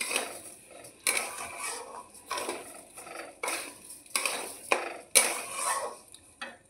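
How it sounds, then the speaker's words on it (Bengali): A metal spatula scrapes and clatters against a wok as rice and other ingredients for a pulao are stirred together, in repeated strokes at a roughly regular pace, with no voices. "এবার এগুলোকে একসাথে কড়াইয়ের মধ্যেই মিক্সিং করি।"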